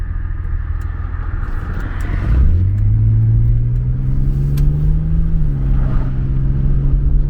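A 1986 Pontiac Fiero GT with a 2.8 engine, its exhaust rumbling low and then rising into a climbing drone as the car accelerates, loud and close with no talk.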